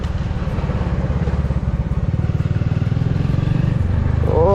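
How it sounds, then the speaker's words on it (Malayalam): A motorcycle engine runs after a tappet adjustment, idling close by with a fast, even, rhythmic chugging that stays loud and steady throughout. "എഞ്ചിൻ്റെ സൗണ്ട് നീറ്റായിട്ടുണ്ട്"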